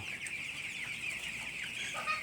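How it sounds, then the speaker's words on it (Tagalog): Chickens cluck softly and steadily at close range, with scattered short calls over a faint outdoor background and no talking. "Ito ang inaalagaan ko na manok o sisiw."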